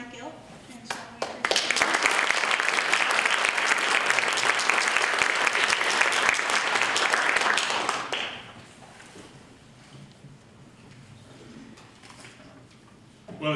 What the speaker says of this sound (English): please give a big warm round of applause for Mike Elk.